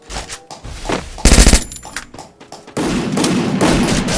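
Uzi submachine gun firing in a video game, with bursts of rapid automatic shots that come loud and close, the strongest around the middle, followed by a steady dense stretch of gunfire noise toward the end.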